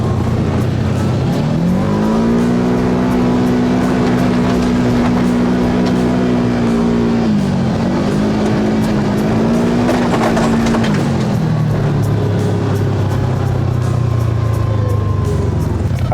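Kawasaki KRX4 1000 side-by-side driving at high speed, engine droning loud and close with its pitch rising, holding, dipping and climbing again, then falling away near the end, with constant wind and rumble.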